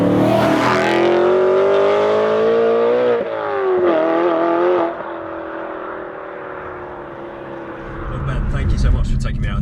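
Decatted BMW M3 engine revving hard and loud up close, a sustained harmonic roar that rises and dips with throttle changes, then drops to a lower drone before swelling again at the end.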